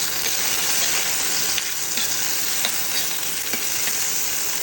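Tomatoes frying in a pan for a vegetable sabji, giving a steady, loud, close sizzle that runs throughout with occasional faint stirring clicks.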